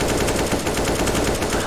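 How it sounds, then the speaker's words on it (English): Automatic weapon fire in Counter-Strike: Global Offensive, a continuous rapid rattle of shots at a steady rhythm, close and loud throughout with no talking. "whoever's shooting at me is terrible"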